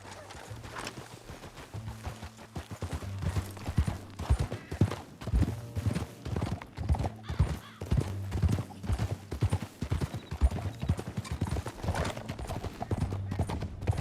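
Horse hooves pounding in a clip-clop gallop in the Red Dead Redemption 2 video game, a steady rhythmic beat up close, with occasional whinnies and background game noise.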